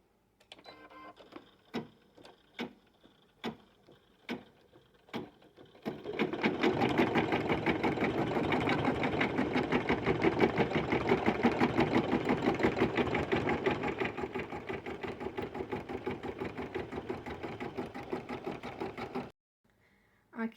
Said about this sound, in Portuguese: eu já coloquei o meu bastidor na máquina. E a próxima etapa, ela vai fazer o ponto cheio para mim.